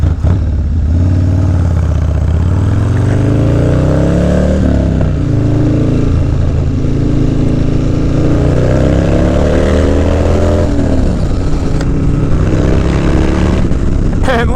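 A motorcycle is ridden in freezing conditions, its engine loud and steady under heavy wind roar, with revs rising and falling through gear changes over about fifteen seconds.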